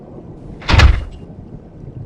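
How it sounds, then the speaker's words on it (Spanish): A room door slams shut once, a single sharp, heavy bang that stands out loudly against a quiet background. "De repente la puerta del cuarto se azotó de la nada y se cerró"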